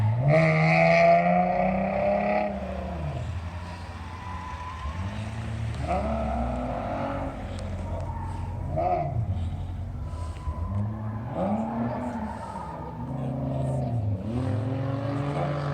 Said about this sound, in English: Oh, that's a V6 Mustang.